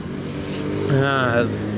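Honda CBR650R motorcycle with an aftermarket burnt-titanium exhaust with a carbon tip, engine running and rising briefly in a short rev near the middle, heard close up beneath ongoing talk.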